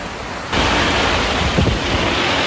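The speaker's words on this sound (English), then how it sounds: "a beautiful sunny day turns into an incredible downpour" Heavy rain pours down on a sailboat at sea, suddenly rising from a quieter background into a loud, steady broadband hiss of downpour with wind, continuous and close.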